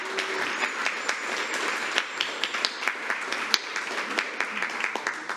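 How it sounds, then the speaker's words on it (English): An audience at a Waxahachie ISD school board meeting applauds a top-eight state team, a dense, moderately quiet patter of many hands clapping continuously with scattered sharper claps throughout. "Let's give them a round of applause"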